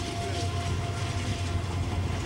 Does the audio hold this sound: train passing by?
yes